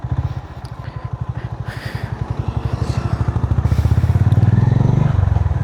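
A 2025 Honda CB350RS single-cylinder motorcycle thumps along on the road from the rider's position, a steady loud pulsing exhaust beat that climbs slightly in pace, with wind rumble and occasional light rattles.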